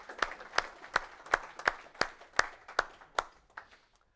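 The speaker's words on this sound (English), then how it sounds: "Another round of applause for Amigos." Applause for team Amigos at a competition results ceremony: a few people clapping in a steady, evenly spaced rhythm, roughly three claps per second, fairly close and distinct, thinning out toward the end.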